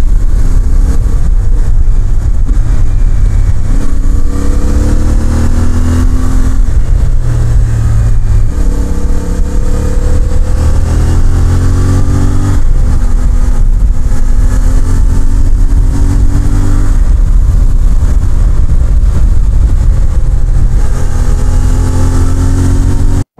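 CFMoto 450 MT motorcycle engine running loud and steady throughout while riding, pitch rising and falling as it accelerates through the gears, with wind rush underneath and no talk.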